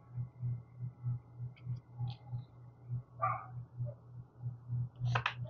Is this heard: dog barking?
yes